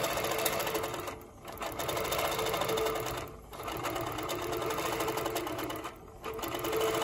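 A Handi Quilter Moxie longarm quilting machine with Pro-Stitcher Lite stitches an edge-to-edge pattern, a loud, steady rapid needle chatter with brief dips where the stitching slows or pauses.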